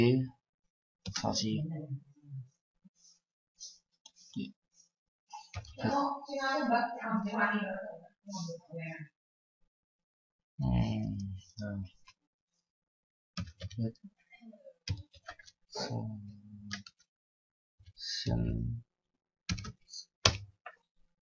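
Keystrokes on a computer keyboard as commands are entered in a Linux terminal, heard as scattered, irregular clicks mixed in with a voice talking through much of the stretch.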